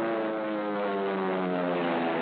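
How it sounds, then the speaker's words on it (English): World War II dive bomber aircraft going into action, a steady droning propeller engine tone with layered harmonics, held evenly at moderate loudness for a couple of seconds with no talking. "That's our dive bombers going into action."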